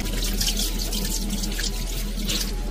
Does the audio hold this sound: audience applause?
no